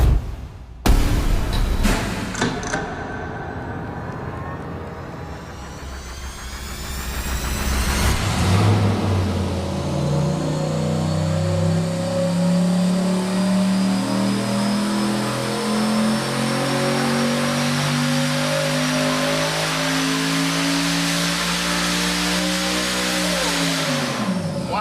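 A built, turbocharged V8 with upgraded cam, heads and intake revs on an engine dyno, starting with a few sharp blips, then a long, loud, steady climb in pitch under full load, ending with an abrupt cutoff.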